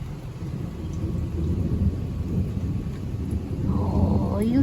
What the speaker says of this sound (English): You hear the thunder, puppy.